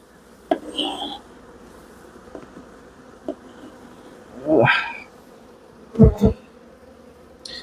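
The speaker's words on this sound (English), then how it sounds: "there's loads of bees on the side" Bees hum softly around a hive colony in a steady low drone, broken by several sharp knocks and bumps from handling the hive, the loudest near the end.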